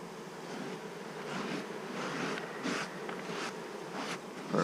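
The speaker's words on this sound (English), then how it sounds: "There's too many bees on it." Honey bees swarm densely around an open hive during a honey harvest, producing a continuous, close buzzing that swells and dips as individual bees zip past.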